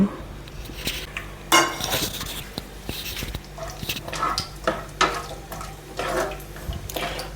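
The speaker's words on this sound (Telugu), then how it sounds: "ఇప్పుడు కాజు ఫ్రై చేసుకోండి" Cashews being fried in a hot pan for a kaju paneer curry, with repeated metallic clinks and scrapes of a spatula against the pan and a low steady background, no voices.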